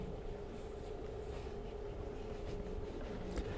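Charcoal scrapes steadily across paper while a figure is drawn, a continuous close, gritty rasping stroke with no pauses.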